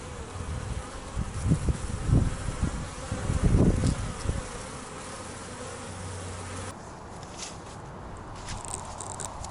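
A close honeybee buzz wavers in bursts for several seconds, louder near the start, then fades to a quieter hum with faint background noise.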